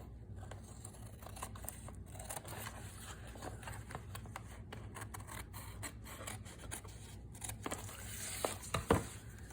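Paper being trimmed with scissors for a double file folder junk journal, a quiet run of close snips and rustling paper handling, with a louder crinkle near the end and no talking.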